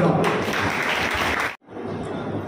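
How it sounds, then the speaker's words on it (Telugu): Loud, dense applause from an audience at a pastors' felicitation event, steady for about a second and a half before cutting off abruptly, then resuming briefly afterward. "చప్పట్లు కొడదాం"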